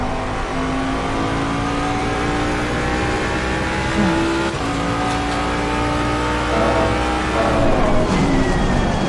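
A race car engine in a racing video game, a sprint race at the Barcelona circuit, holding a loud, sustained high-revving drone that climbs in pitch, dips briefly, then surges again near the end.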